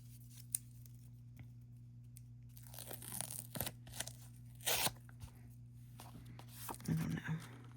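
Tape torn off a roll and pressed onto a card at close range, a few rough ripping and crinkling bursts over a steady low electrical hum.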